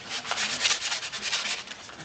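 Sandpaper rubs against a wooden spindle barrel turning on a lathe, a close, steady, rhythmic abrasive hiss with quick back-and-forth pulses and no talking.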